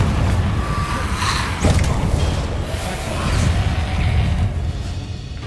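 Confringo fire spell cast in Hogwarts Legacy, a rumbling whoosh with an explosive burst partway through, then a lingering low roar of game effects.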